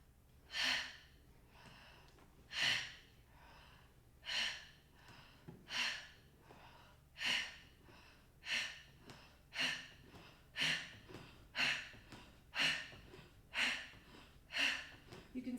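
Slow, deep breaths during a pelvic floor exercise, about ten evenly spaced inhale and exhale cycles, close and clear against a quiet background.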